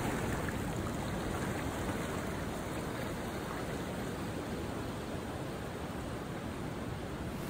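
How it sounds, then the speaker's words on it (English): Small waves wash onto a lava rock beach in Costa Rica, forming a continuous, even rush of surf with no distinct breaks and no voices. "Small waves come in"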